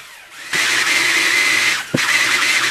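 Electric hand mixer whisks protein pancake batter of eggs, milk and bread flour, starting abruptly with a loud steady whir, a brief clunk near the end, then continuing close and constant with no talking.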